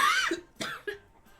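A person coughs several times in quick, harsh bursts, close up, with a brief throat-clearing rasp between them.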